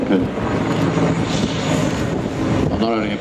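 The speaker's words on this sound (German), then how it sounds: "Well, not only a powerful aircraft, but a very big one." A Mil Mi-24, a large, heavy military helicopter with a 17.3 m rotor span, flies with a loud, continuous roar of rotor and engine mixed with wind noise, under a voice speaking.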